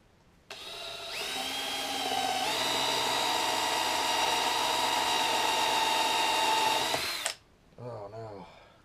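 A power drill drives a bit into wood while building sawhorses, a loud close whine that steps up in pitch and holds steady for several seconds before cutting off, followed by a brief spoken reaction.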